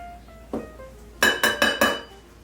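Almonds and sugar mixed in a small bowl: one light knock, then four quick, bright clinks of a utensil against the bowl in a tight rhythm, close and alone.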